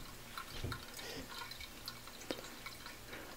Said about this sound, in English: here you see how the water comes out and how it turns counterclockwise